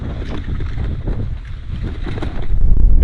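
Strong wind buffets the microphone with a steady low roar during a bicycle ride along a road in Zambia, swelling louder toward the end with no voices heard.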